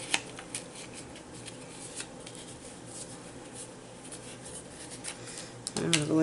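Paper being folded and creased by hand while making hidden paper clips for a journal, soft close crinkling and rustling with light taps, fairly quiet, with a sharper handling noise near the end.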